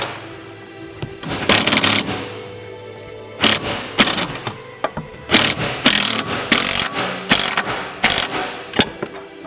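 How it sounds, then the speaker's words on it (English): A 13mm box wrench and socket tighten fender brace hardware on a Jeep Wrangler JL, producing loud, close bursts of rapid ratcheting clicks in repeated strokes separated by short pauses. "We're gonna use a 13mm box wrench and socket to the supplied hardware"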